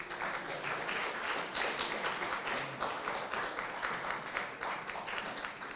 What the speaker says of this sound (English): Another clap, please.